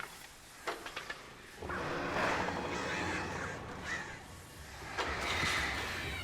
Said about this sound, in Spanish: ¡Pájaros! ¡Fuera!